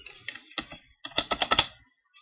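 Bursts of computer keyboard typing, a few keystrokes then a quicker run of clacks, close and clear with no talk, on a Windows PC while entering an address in the command prompt.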